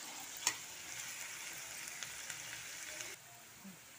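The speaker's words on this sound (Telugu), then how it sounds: "చూడండి, ఉల్లిపాయ ముక్కలు చక్కగా వేగిపోయినాయండి" Onion pieces frying in a pan, giving a soft continuous sizzle and crackle with one sharper pop early on, steady and fairly quiet, heard alone.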